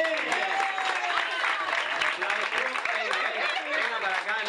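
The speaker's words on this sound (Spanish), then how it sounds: "¡Fuerte el aplauso para Maylene!" An audience applauds a guest, steady clapping mixed with cheering and chatter from the crowd, loud and sustained throughout.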